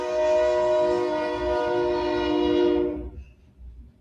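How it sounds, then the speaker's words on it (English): A train passes close by a house, sounding a long, steady horn with strong harmonic tones that holds for about three seconds, then cuts off abruptly, leaving quiet rumbling. "I think you probably hear the train going by my house."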